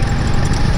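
A motorcycle engine runs steadily up close, loud and continuous, with loose metal pieces and a loose screw rattling along with its vibration; no one speaks over it.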